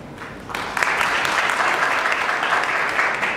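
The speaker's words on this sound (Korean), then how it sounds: "큰 박수 부탁드립니다" Applause from journalists at a MINI Countryman launch and test-drive press event, starting faintly then swelling after half a second into steady, dense clapping that holds loud throughout.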